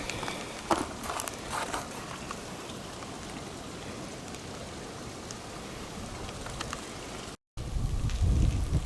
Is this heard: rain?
yes